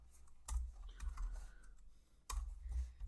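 Soft keyboard typing on a computer, quiet clustered clicks with low thumps in two short bursts separated by a brief lull, nearby and faint, with no speech.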